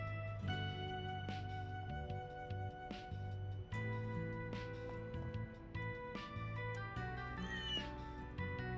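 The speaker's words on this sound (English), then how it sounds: "Looks like the cats have mellowed out a bit" Cats meowing in the Trails through Daybreak II video game, several drawn-out meows spread across the clip over a soft, steady in-game music bed.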